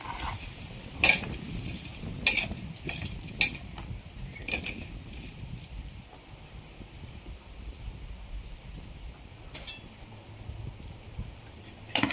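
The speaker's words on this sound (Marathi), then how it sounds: "हा मसाला मस्तपैकी मिक्स करून घ्यायचा आहे" Spice masala for mango pickle is mixed in a bowl, with sharp, irregular clinks and scrapes of a spoon against the bowl over a quiet background, clustered early and then sparser.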